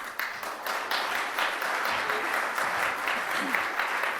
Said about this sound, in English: big round of applause for Rainn Newton-Smith